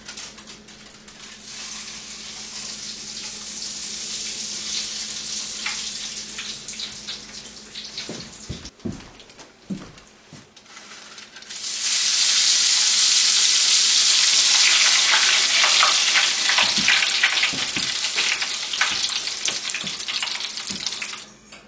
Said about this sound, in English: lower the aluminum foil into the hot oil. At that point, the butter will melt, and we'll be able to withdraw the aluminum foil, leaving the doughnut in the oil to cook.